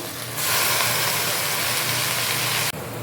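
Spinach and coriander leaves frying in a pan for South Indian palak paneer, giving a loud, steady hiss that starts abruptly and holds for a few seconds before cutting off.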